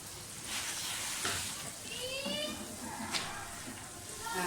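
Pumpkin and chana dal fry with an onion-tomato paste in a pan, giving a soft, steady sizzle with occasional louder crackles and spits, moderately close.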